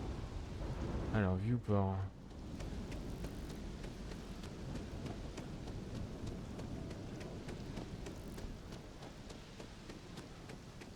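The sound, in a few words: rain and thunder in the video game Starfield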